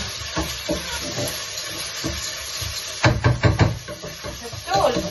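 Onions frying in a pan with steady close sizzling and hiss, punctuated by stirring scrapes and knocks midway, while a voice speaks over the cooking.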